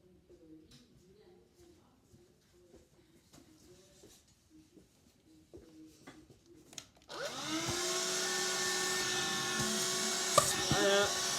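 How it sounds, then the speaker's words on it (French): A vacuum cleaner switches on partway through and runs loud and steady to the end, after a stretch of quiet indoor sounds and light talk. "On fait sortir un aspirateur."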